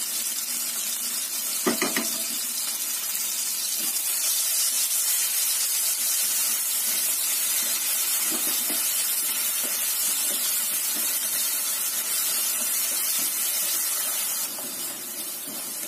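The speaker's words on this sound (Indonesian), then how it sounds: "Kita tumis sampai matang supaya nggak tercium bau wangi cabai ya." Ground spice paste sautéing in a pan for a tofu dish gives a steady close hiss and sizzle from start to end, with a few soft stirring knocks and scrapes and no talking.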